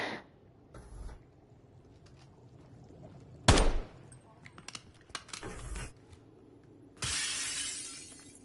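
Gunfire in Call of Duty Black Ops 7, a search-and-destroy match: sharp cracking shots burst out at intervals among quieter clicks and taps, one loud blast near the middle and a sustained noisy burst near the end.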